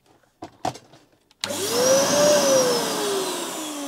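A few soft clicks and knocks, then a vacuum cleaner switches on abruptly and keeps droning loudly with a rising, then slowly falling motor whine.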